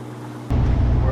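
A sailboat motors under engine power into a light southerly at about six knots north of La Paz. A steady low engine drone and hull rumble swell suddenly louder and fuller partway through and stay close and continuous.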